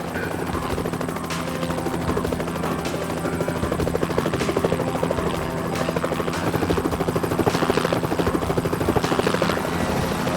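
A video-game helicopter's steady rotor thrum and engine drone fills the scene continuously, close and loud, with a rhythmic chopping pulse throughout, from the game Navy SEALs 2.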